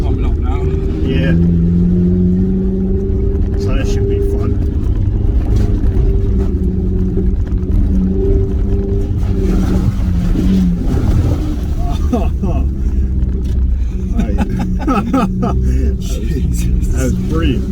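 A Suzuki Vitara pushing off-road through water, its engine a steady low drone with splashing and sloshing all the way through, while people chat over it.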